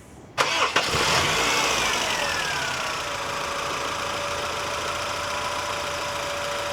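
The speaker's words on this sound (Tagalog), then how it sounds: "paparinig ko sa inyo kung gaano kapino yung engine nito." A Honda Civic FD with a 1.8 liter 4-cylinder gasoline engine cranks and catches with a sharp start, revs briefly, then settles into a steady, smooth idle with a falling whine, close and alone.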